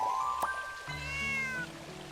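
Coco the cat meows in the game Little Witch in the Woods, two short, clear mews in quick succession, close and prominent over a soft trickling backdrop with no talk.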